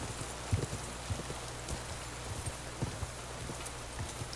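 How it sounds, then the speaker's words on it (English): Steady rain hissing down in the medieval world of Kingdom Come: Deliverance 2, a dense wash of drops with a few soft thuds and clops scattered through it, fairly quiet and continuous. "We're getting rained all up on."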